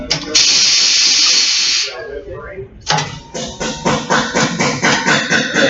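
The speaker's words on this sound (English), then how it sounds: "we're going to place the tire up on the mounting machine." A tire mounting machine starts up in a tire service shop. A loud pneumatic hiss comes first, then after a short pause the machine runs with a steady, rhythmic pulsing churn, close and loud.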